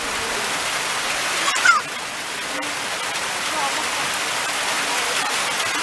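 Steady rain patters on a river where people are bathing, a dense, even hiss with one brief splash near the start.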